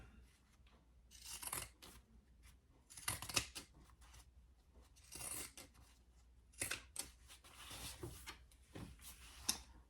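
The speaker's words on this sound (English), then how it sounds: "I am going to trim down this side with my pinking shears and across the bottom" Pinking shears snip along the edge of cotton fabric in several crisp bursts of cutting with short pauses between them, close and fairly quiet, with no voices.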